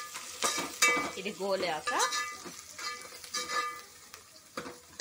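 Crushed ginger and garlic go into hot oil with curry leaves in a pan and give off a steady sizzle with some stirring clinks. A person talks over the frying.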